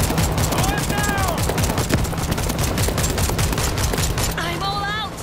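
Machine gun fire in the video game World War Z rattles in a dense, continuous burst, loud and close, with distorted voices breaking through over it.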